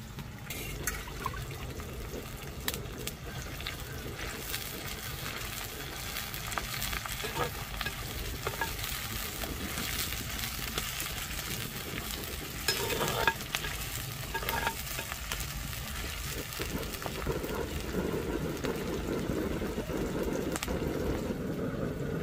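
Onion, dried chillies, curry leaves and mustard seeds tempering in hot oil, a steady crackling sizzle with stirring scrapes and occasional pops running for a long stretch, close and fairly loud, no speech.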